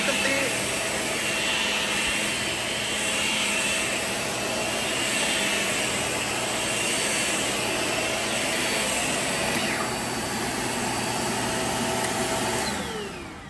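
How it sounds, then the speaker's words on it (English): A Shark ZU51 vacuum cleaner runs on its carpet setting across carpet with a steady, loud whooshing roar that holds for the whole stretch. "if you hit carpet, you can see how well it cleans"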